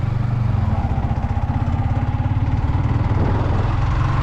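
Yamaha MT15 motorcycle engine running while riding, a steady close drone with a rapid pulsing beat throughout, no voices.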